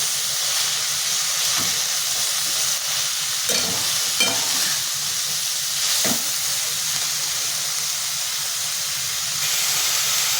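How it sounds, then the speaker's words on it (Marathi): Mushrooms sautéing in a hot pan, a steady sizzling hiss with occasional spatula scrapes and clinks, close and continuous, with no talking. "मी मशरूम टाकून घेते ते पण आपल्याला थोडं परतून घ्यायचं आहे"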